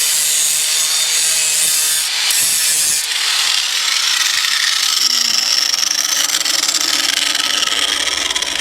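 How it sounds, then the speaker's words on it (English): A power cutting tool bites into a small metal nub on a Ford Maverick axle, giving a loud, continuous harsh grinding rasp up close that shifts in pitch as it works through, with no voices. "it's best to just cut off that little nub there"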